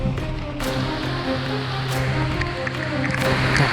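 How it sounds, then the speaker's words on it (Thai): Heavy rain falls steadily on a mountain trail during a trail run at Langka Luang, a close, dense hiss with brief patters and faint voices under it. "ฝนหนาเม็ดมากครับตอนนี้"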